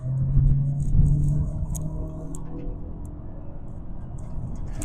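A 2025 Honda Accord SE accelerating to pass a BMW electric car, heard from inside as a steady low engine and road rumble with a brief rise in engine tone early on, no talk.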